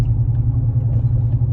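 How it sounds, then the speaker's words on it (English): A GMC Sierra truck fitted with an E85 kit idles with a deep, steady rumble, close and continuous, with no other sounds. "truck's running good as of right now"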